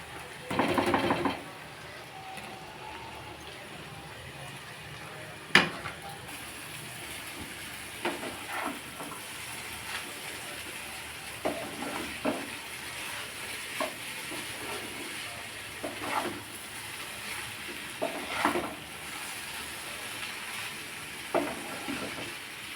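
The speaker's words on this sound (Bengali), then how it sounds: "এবার চাউমিনটা দিয়ে দেবো" Chowmein noodles tossed and stir-fried with vegetables in a hot pan, a steady sizzle under repeated scrapes and clacks of the spatula at irregular intervals, close by and without speech.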